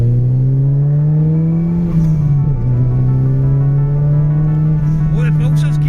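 A car runs quickly along the String road on the Isle of Arran, with a loud, close engine hum that holds a steady pitch, dips briefly and then rises again as it climbs. Someone talks over part of it.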